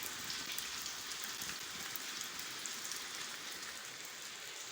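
Steady rain pours down during a thunderstorm, a dense continuous hiss of drops striking surfaces nearby, with no voices heard.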